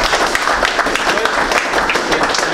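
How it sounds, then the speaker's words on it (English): Applause from an audience at a fishing competition gathering, dense steady clapping filling the short span up close, with a voice speaking over it. "a big round of applause for Mark"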